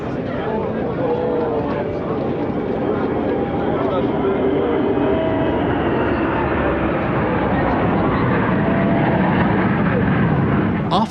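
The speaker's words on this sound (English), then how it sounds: "First to fly through is the Tupolev Tu-22 M3 Backfire, a long-range supersonic swing-ring strategic and maritime strike bomber" A Tupolev Tu-22M3 Backfire supersonic strategic bomber flies past, a loud, continuous broadband jet roar and rumble that holds steady across the whole pass, with crowd or voices faintly mixed in underneath.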